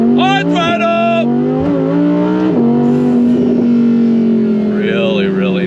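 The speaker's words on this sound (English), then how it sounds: "That Valvetronic exhaust, I got it wide open, and you're gonna be able to hear it so well" An Audi R8 Performance's modified valved exhaust, valves wide open, revving hard and holding a loud, throaty engine note close by, pitch climbing and settling under throttle.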